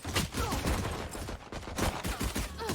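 Close-range shots from a Sheriff pistol during a Valorant esports match, a cluster of sharp, loud cracks mixed with other quick gunfire and game effects.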